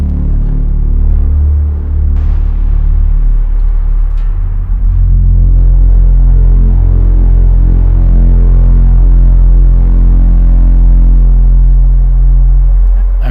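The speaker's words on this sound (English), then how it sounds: "That's a reverb pedal I've got later in the chain," An electric guitar runs through a Mantic Hulk fuzz pedal and a stereo reverb pedal, giving a loud, dense, droning wash with heavy low rumble and sustained, swelling reverb tails that hold steady throughout.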